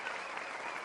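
Steady crowd applause and light cheering from a studio audience on a rugby league comedy show, a dense even wash of clapping with no gaps for under a second.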